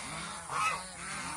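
Geese honking on a goose farm: a short, close burst of nasal honks rising to a peak in the middle, over a steady background hiss.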